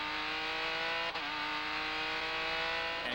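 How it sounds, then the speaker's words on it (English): A Barber Dodge Pro Series race car at Road America, 2001, its engine droning steadily at high revs, loud and close, with a quick dip and shift in pitch partway through. "Koster gets on the throttle before he comes up the hill and now is trying to break the draft"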